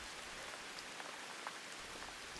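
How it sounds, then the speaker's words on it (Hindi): Heavy rain pours down in a steady, close, dense hiss that fills the whole moment without any break or other sound. "मिट्ठू, बारिश तेज है, आप कैसे भोजन ढूंढ कर लाएंगे?"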